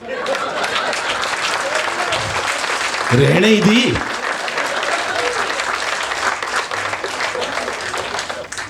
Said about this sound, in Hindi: 7-8 लोगों ने ताली बजाई है